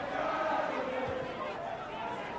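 Swansea football supporters at a 1981 Wales versus Iceland World Cup qualifier, a steady broad roar of distant crowd noise with chanting tones, under continuous commentary.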